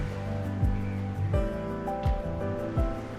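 Ocean waves wash onto the shore in Love and Deepspace, soft, steady surf with gentle swells rising every second or so, heard alone over calm background music.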